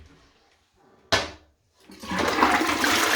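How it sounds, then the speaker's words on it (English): A white toilet in a rental property bathroom flushes with a sharp lever clunk, then a rising, steady rush of water that grows loud and close, with brief speech earlier. "Flush is fine."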